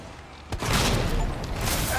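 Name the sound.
grenade explosion and gunfire in the video game Resident Evil 2 Remake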